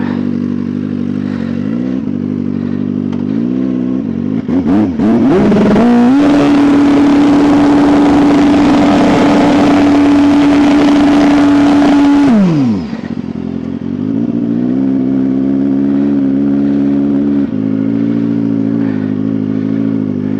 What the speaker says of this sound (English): burnout mode on. Get her fired up.